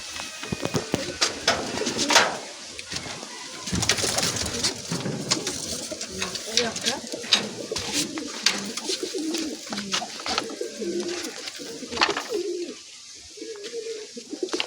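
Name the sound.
pigeons cooing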